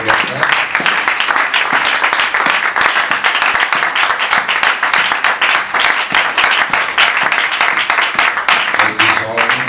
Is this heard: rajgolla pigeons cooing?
no